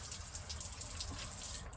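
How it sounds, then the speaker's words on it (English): Garden water tap running with a steady splashing gush of water close by, continuous through the short stretch and cutting out right at the end; no speech. "Let's just turn the water off."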